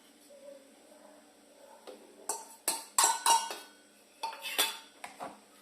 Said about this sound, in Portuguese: Vou deixar bater bem até virar uma mistura bem homogênea.